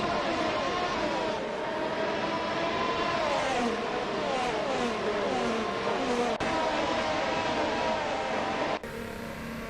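Engines of F1 race cars in a racing video game at an Atlanta track, several cars whining and shifting pitch as they pass, moderately loud and continuous, with no talk.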